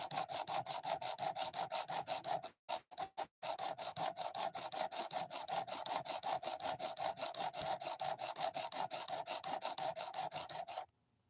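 A knife blade is rubbed back and forth on 220 grit sandpaper in fast, even rasping strokes, close and steady, with a short pause early on before the rhythm resumes and then stops abruptly.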